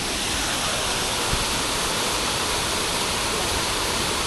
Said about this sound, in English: Now this place actually has three different falls.